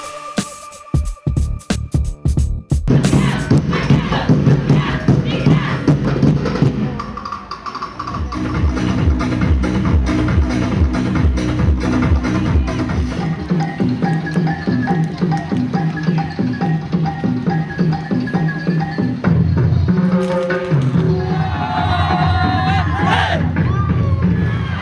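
A large crowd at a street dancing festival in Laoag creates a loud, dense roar of cheering and shouting, with pounding drumbeats and music throughout.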